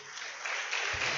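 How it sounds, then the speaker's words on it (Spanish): Church congregation applauding during a Spanish-language sermon, a dense steady wash of many hands clapping that swells slightly partway through, with a low rumble entering near the end. "Dale un aplauso a la presencia de Dios."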